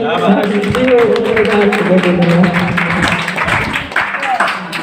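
An audience claps steadily at a literary gathering held at a high school in Dhananinagar, a continuous patter of hand claps with a voice speaking over it.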